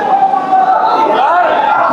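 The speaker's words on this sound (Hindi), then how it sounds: "लगातार नारे लग रहे हैं" Crowd chanting slogans at a BSP rally for Ambedkar Jayanti in Lucknow, a dense mass of voices rising and falling continuously, loud and close, with chant lines blending into steady crowd noise.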